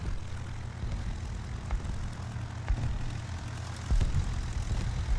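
Droning World War I aircraft engines in the War Thunder video game, a steady low rumble of propeller planes holding throughout with a slight swell near the end.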